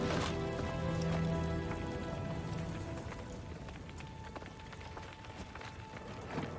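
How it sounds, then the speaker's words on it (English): Soft patter of rain falls steadily throughout in the video game Gears 5, with scattered drop hits and faint tonal hums in the background; no one speaks. "He's not crying, Chad. It's raining."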